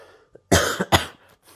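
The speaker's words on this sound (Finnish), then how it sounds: "kun vieläkin on tämmöistä vitun köhää perkeleen sitkeä tauti ollut" A man gives two harsh, close coughs in quick succession, a sick, lingering cough, followed by a faint breath in an otherwise quiet room.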